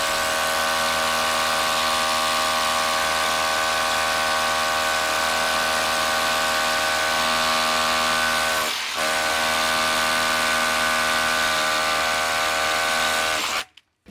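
A Ridgid OCTANE rotary hammer drilling holes into concrete, giving a loud, continuous high-pitched hammering whine that holds steady under load, dips briefly once, then cuts off at the end.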